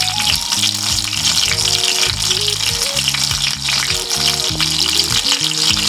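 Chicken pieces fry in hot oil in a pan, a steady, close, dense crackling sizzle with no talk over it.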